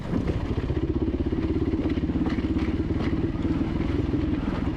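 A dirt bike engine chugs in a rapid, rhythmic low pulse as the bike crawls over a chunky, rocky trail in the Laughlin hills, close and steady with light clatter; no voices.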